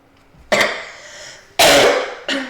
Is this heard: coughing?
yes